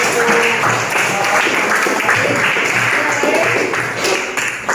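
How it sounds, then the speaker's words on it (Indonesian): Students in a classroom clap for their teacher, a dense burst of many hands clapping close by, sustained for several seconds with a faint murmur of voices underneath. "kita kasih tepuk tangan untuk Bapak"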